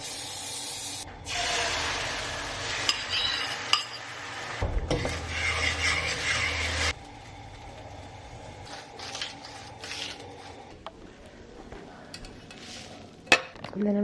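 Whisked eggs poured into a hot pan, a loud sizzling hiss for several seconds that cuts off, then quieter crackle with scattered clinks of utensils and pan.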